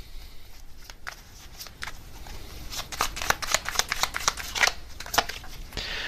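Tarot cards being shuffled, a close run of crisp papery riffles and slaps that builds from sparse flicks into a dense, rapid flurry before trailing off.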